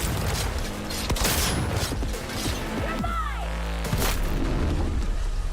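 Rapid gunfire in the Cyberpunk 2077 video game: dense, loud bursts of shots with mechanical clatter and booming impacts, continuing with little pause.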